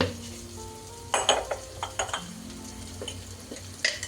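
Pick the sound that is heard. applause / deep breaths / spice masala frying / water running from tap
spice masala frying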